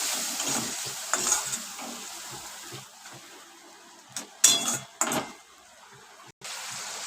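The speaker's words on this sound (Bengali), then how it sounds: "হাফ চামচ জিরের গুঁড়ো, সামান্য একটু জল দিয়ে দিলাম। মশলাটা কষাতে থাকি।" Spice paste of cumin powder with a splash of water being fried and stirred in a pan, a steady sizzle broken by scraping strokes and a few sharp clatters, no voices.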